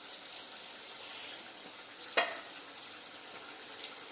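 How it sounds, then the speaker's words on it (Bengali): Pieces of fried chicken tikka go into a simmering gravy, which keeps up a steady, close sizzle and bubbling throughout. One brief splash is heard as a piece drops in, and nobody talks. "এবার ভেজে রাখা টিক্কাগুলো কিন্তু আস্তে আস্তে দিয়ে দেব"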